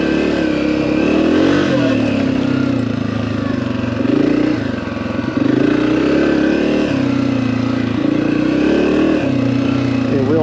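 Dirt bike ridden along a whooped-out OHV trail at Buckhorn, its engine droning steadily for the whole stretch with repeated surges and dips in revs, close and loud, with no talk over it.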